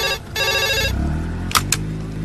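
An old-style telephone rings after a number is dialed, a loud buzzing ring tone pulsing near the start, then a couple of brief clicks as the line connects.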